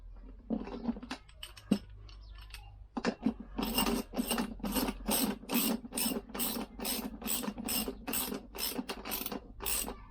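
A hand tool ratchets quickly and evenly while tightening a Lambretta scooter wheel during a rebuild, a close, crisp, steady clicking that follows a few softer handling taps.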